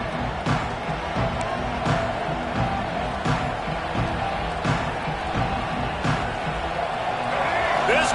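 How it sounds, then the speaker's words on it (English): A football stadium crowd at Utah roars as a steady, dense wash of noise, with scattered claps and thumps, under a commentator speaking. "This crowd trying to show them what it's going to be like all day in this house"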